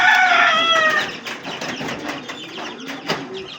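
Chickens and cockerels let out of their coop crow and cluck up close. A loud crow opens, followed by scattered clucks and calls.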